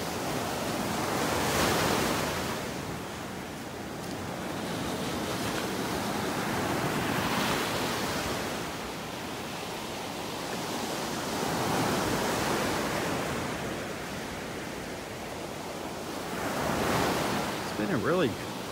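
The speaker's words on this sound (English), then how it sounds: "Just got to listen to the waves this morning." Ocean waves break and wash up on a beach in North Naples, Florida, in slow surging swells roughly every five seconds, loud and close, with some wind rumble and no talking.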